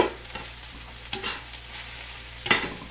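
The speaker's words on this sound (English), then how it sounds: "We're just going to use a spatula and move it around." Fried rice with barbecue pork stirred and pushed around a pan with a spatula, soft frying sizzle beneath several close scraping strokes of the spatula against the pan.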